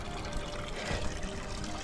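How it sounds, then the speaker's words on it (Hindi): Water pours steadily from a small mountain spring in Karor Valley, Kotli Sattian, making a continuous close splashing trickle with no talk. "ये खूबसूरत सा चश्मा यहाँ पे"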